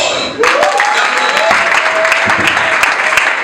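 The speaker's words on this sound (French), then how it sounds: "Alors on va accueillir avec beaucoup d'applaudissements lors de la soirée, je cite, Jacques Campoy." An audience welcoming Jacques Campoy breaks into loud applause that starts abruptly and continues as dense, steady clapping, with a faint tonal sound underneath.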